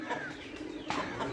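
Pigeons at a farm house near Islamabad, kept by pigeon fanciers, give soft brief coos close by, a few low calls over quiet background chatter.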